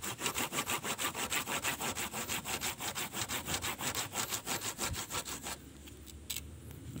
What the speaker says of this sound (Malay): Gergaji aja ya.